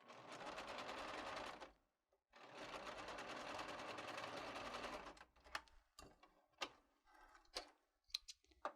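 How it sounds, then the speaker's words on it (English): A sewing machine runs in two long, steady bursts while stitching a zigzag seam on a T-shirt shoulder. Close-up clicks and small handling noises follow as the stitching stops. "we're approaching our original stitching there, so we'll just kind of go past it a little bit and then we'll back tack"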